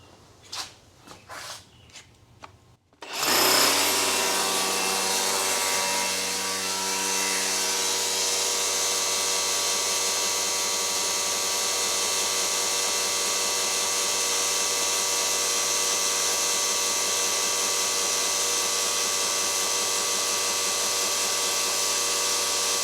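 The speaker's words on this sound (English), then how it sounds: "right now the trimmer is set on high. I'm going to see if I can run it" Handful of faint knocks, then a DeWalt or Milwaukee string trimmer on high speed starts abruptly and runs with a loud, steady, buzzing electric whine and vibration that holds to the end.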